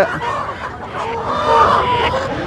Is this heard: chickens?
yes